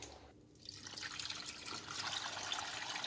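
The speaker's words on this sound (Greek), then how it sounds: "Θα γεμίσω τώρα νερό στην κατσαρόλα μου." Tap water runs into a cooking pot for boiling zucchini, a steady splashing stream that builds and grows slightly fuller and brighter as the pot fills, with no talking.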